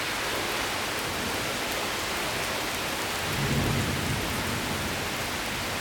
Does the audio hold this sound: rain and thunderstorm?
yes